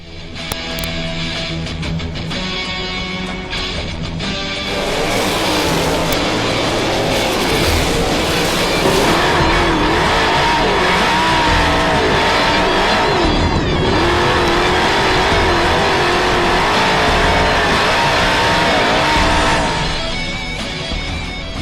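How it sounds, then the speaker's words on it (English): USAC non-wing sprint cars racing, engines revving and roaring past loudly, with a quieter passage before a sustained, swelling howl of accelerating cars that fades near the end. "let's go ahead and move on to the USAC Sprint cars"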